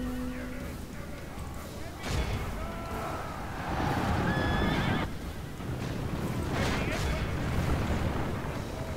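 Cavalry horses neigh and whinny amid a medieval battle in Medieval II Total War, with hoofbeats, fire and combat rumble filling the background; several whinnies rise over the continuous din.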